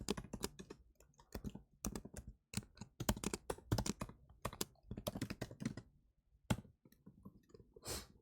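Rapid typing on a computer keyboard while coding, dense bursts of close clicking keystrokes broken by short pauses, with a few heavier key taps.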